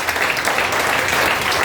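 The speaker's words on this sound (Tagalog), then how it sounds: "Sige, palakpak kayo ng malakas." A church congregation claps loudly and steadily, dense applause filling the whole short moment with no pauses.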